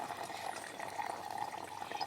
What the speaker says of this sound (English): you can kind of see it's dripping down